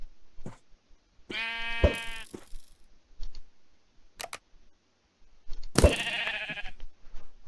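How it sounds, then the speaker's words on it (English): Two sheep bleats from the Minecraft video game, a nasal harmonic baa near the start and a second harsher one later, separated by short game clicks and sounds over a quiet background. "that killed that sheep really quickly"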